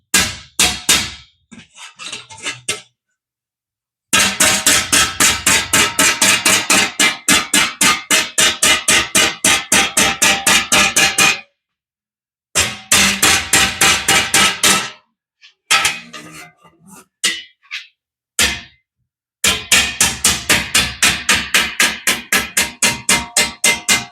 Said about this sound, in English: this time I'm going to start from scratch just by hammering